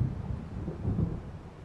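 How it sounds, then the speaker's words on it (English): Low, rolling thunder of an approaching storm in the video game Alan Wake, a steady deep rumble with faint rain-like hiss, distant and fairly quiet, with no voices. "It seems there's a storm coming."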